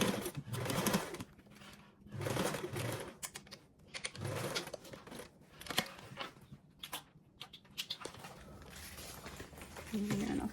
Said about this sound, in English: attach your gusset base with a 1/8 seam allowance basting stitch